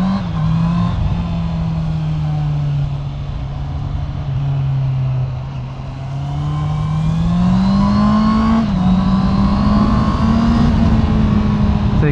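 Motorcycle ridden steadily along a looping route at moderate speed, its engine droning continuously with slight pitch rises and falls, plus steady wind rush throughout.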